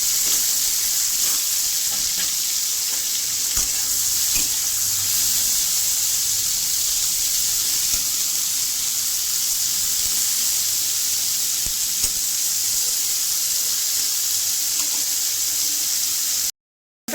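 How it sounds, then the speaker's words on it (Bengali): Brinjal and bitter gourd fry in a pan with a steady, close sizzle and hiss that carries on without a break, and nobody speaks. "আমি করলার সাথে বেগুনও ভাজা করি"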